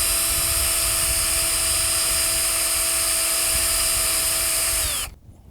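A power drill drives small wood screws into a duck blind frame, giving a loud, continuous high whine that holds steady, then winds down and cuts off near the end; no talking.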